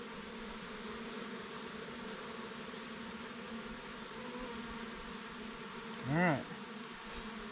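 Honey bees hum steadily around a hive entrance narrowed to a small hole, a constant low drone with a brief louder swell near the end as a voice speaks once.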